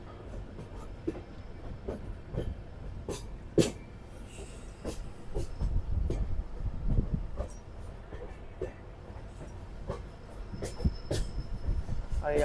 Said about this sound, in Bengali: আর এই আমাদের ট্রেন কিন্তু পাহাড়ের উপরে আঁকা বাঁকা পথে যাচ্ছে।